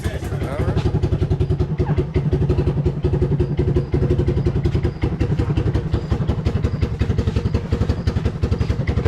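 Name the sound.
Kawasaki Bayou 220 ATV engine running on a test ride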